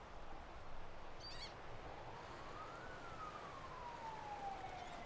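An ambulance siren sounds faint and distant, its single wailing tone rising and then slowly falling against a quiet background with a brief chirp early on.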